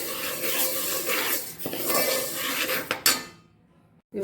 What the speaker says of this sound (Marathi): ही आपली डाळ व्यवस्थित भाजून होत आहे